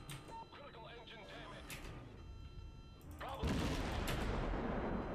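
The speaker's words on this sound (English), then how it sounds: "I should be able to get him with my autocannons." A destroyer's autocannons open up in World of Warships, a rapid burst of heavy shots swelling into a loud, dense barrage that carries to the end, with voices under the early part.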